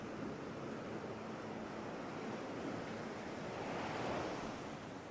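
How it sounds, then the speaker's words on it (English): Sea waves wash against the shore below cliffs with a soft, continuous surf, faint and distant, swelling gently toward the end with light wind noise. "the quiet sound of the sea becomes clearer"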